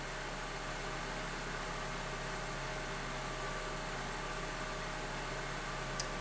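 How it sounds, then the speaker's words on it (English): A car engine idles quietly and steadily with a constant low hum and no speech. "I've got the car running right now"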